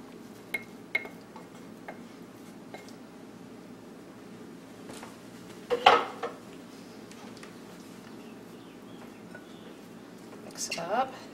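Black bean quinoa salad is stirred in a bowl, with soft scattered clinks of a utensil against the dish and one louder clatter midway, while a person talks.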